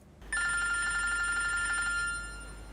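A telephone rings with a steady electronic trill, loud and close, starting after a brief quiet moment and continuing for about two seconds before fading into a low hum. No one speaks over it.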